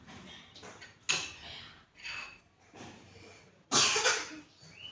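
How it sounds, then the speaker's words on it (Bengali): Someone coughs indoors in a series of separate, fairly close bursts, with the loudest fit near the end and quiet gaps between them. "কাশি দিচ্ছ কেন"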